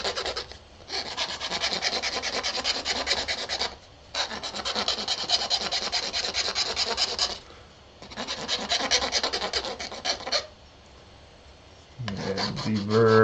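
A file is worked over the edge of an exploded Nalgene plastic bottle in repeated long rasping strokes, loud and close, separated by brief pauses.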